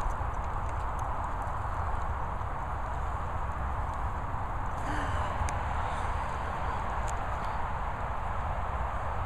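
A dachshund trotting around outdoors in the rain, heard as a steady patter of small quick footfalls over continuous rain hiss, fairly close, with no talk.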